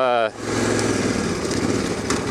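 Motorcycles riding together, a steady loud engine roar throughout with a brief harmonic revving tone at the start, voices talking over the engine noise.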